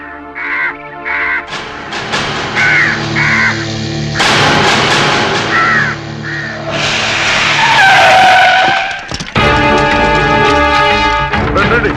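Crows caw in repeated bursts in a Telugu comedy film scene, loud and near, mixed with screeching car tyres skidding and other scene effects.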